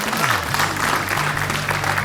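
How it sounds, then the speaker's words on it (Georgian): A TV game show studio audience breaks into loud, even applause close to the microphone, and the clapping continues steadily throughout with a voice faintly beneath it. "გავაცილოთ აპლოდისმენტები"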